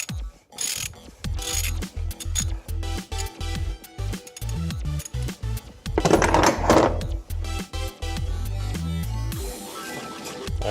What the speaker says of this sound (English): We're going to go ahead and use our 24mm socket and take out the cartridge from here, the canister.